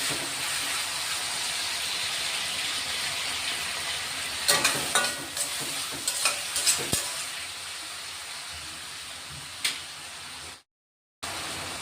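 Asafoetida and onions fry in hot oil for a Khandesh-style kurdai curry, giving a steady, close sizzle with scattered crackles and pops. No one speaks over it.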